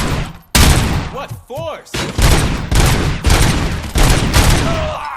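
Heavy gunfire in RoboCop: Rogue City comes as a series of loud, booming volleys in quick succession, with a brief spoken line cutting in between the early shots.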